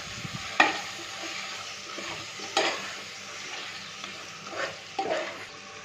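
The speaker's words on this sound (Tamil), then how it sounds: "எண்ணெயில் மசாலா வதங்கினதும் சிக்கன் போட்டுக்கோங்க" Chicken pieces frying with masala in hot oil for a Sunday chicken biryani, stirred a few times so a soft sizzle and scraping swells in short bursts over a steady low frying hiss, close up with no talking.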